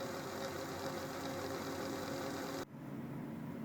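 A Singer 201-2 sewing machine runs with a steady, even motor hum and fine mechanical whir, then stops abruptly, leaving quiet room tone.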